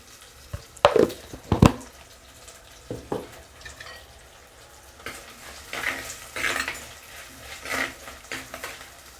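Onions sautéing in a pan for egg adai curry give a soft sizzle beneath clattering spoon stirs and scrapes, with a couple of loud metal knocks early on.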